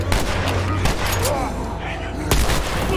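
Gunfire in the video game The Last of Us crackles in rapid, repeated shots over a dense background of game noise.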